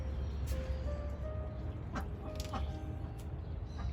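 Backyard hens cluck and murmur softly near a pet, with scattered short calls over a low, steady outdoor background.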